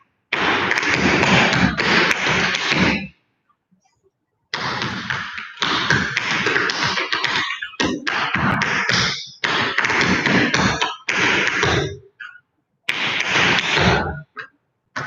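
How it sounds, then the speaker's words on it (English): Intermediate tap dance combination of back flaps, scuffles and heel drops, with quick, crisp taps in dense rhythmic bursts that break off into short pauses, close and loud. "Back flap the scuffle heel."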